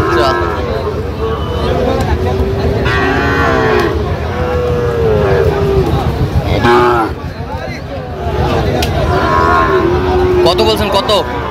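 A Sahiwal breed calf moos repeatedly and loudly at a busy cattle market. The long calls rise over steady crowd chatter, and nearby people talk throughout.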